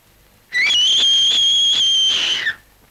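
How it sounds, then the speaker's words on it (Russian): A man whistles loudly: a single shrill, sustained note that rises briefly at the start, holds steady for about two seconds and then drops off, sounding close and alone. "И свистел я матросов похлеще, чем ты."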